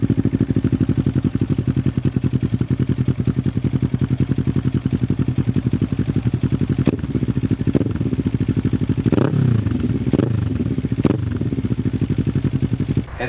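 Kawasaki Ninja 500 with a 452 cc inline-twin engine and Yoshimura exhaust, idling close up with a rapid, even pulsing burble and a few sharp blips of revving in the latter half.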